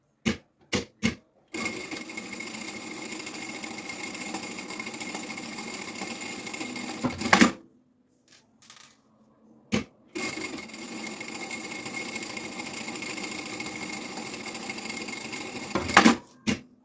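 Sewing machine running two long bursts of stitching on an elastic pocket of a preschool backpack, each lasting several seconds with short start-stop taps and a brief pause between, close and steady with no voices.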